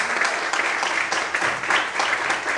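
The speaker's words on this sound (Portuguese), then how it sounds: "Se você crê, bate palma, adore, exalte ao Senhor nesta manhã, em nome de Jesus." A crowd claps steadily and fairly loudly, a continuous patter of many hands with slight swells, and no voices stand out.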